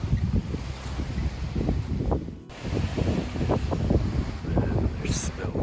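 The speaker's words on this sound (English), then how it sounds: "Still pretty windy here" Strong wind buffets the microphone at an old coal mine site near a mine shaft in the Mercoal ghost town, Alberta Coal Branch, a steady, loud outdoor roar with gusty swells and a brief lull midway.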